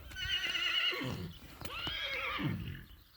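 A horse neighs twice, loud and close, each whinny rising then falling off, with a faint hoof clop between them.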